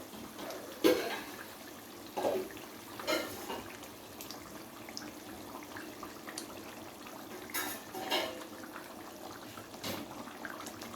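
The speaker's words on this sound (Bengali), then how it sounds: "তো গ্রেভির ঝোল কিন্তু খুব সুন্দরভাবে ফুটে উঠেছে।" Katla fish curry gravy simmers in a pan, making soft bubbling and sizzling that stays faint and steady, with a few louder pops and no talking.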